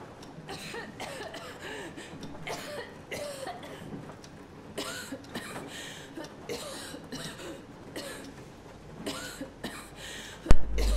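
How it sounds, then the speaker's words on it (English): A character in Metro Exodus coughs repeatedly in irregular bursts, with short throaty hacks and pauses between fits, ending in a sharper loud jolt. "Stand here and watch her cough"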